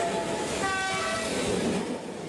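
A train horn sounds at night over the steady rumble of a passing train with clickety-clack wheel noise, loud and close, with sustained horn tones through most of the stretch.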